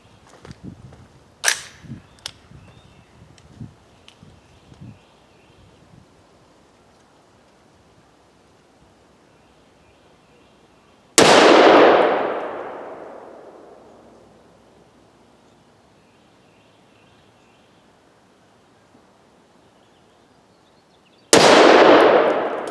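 Factory ammunition fired at steel plates in a penetration test: two loud, sharp impacts about ten seconds apart, each leaving a long ringing metallic decay, with a few faint clicks and knocks beforehand.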